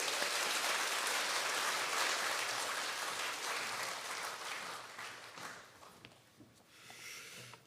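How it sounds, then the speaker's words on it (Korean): A church congregation at a Sunday service claps to welcome a speaker, a dense and fairly distant patter of applause that gradually thins and fades out. "우리 박수로 환영하겠습니다"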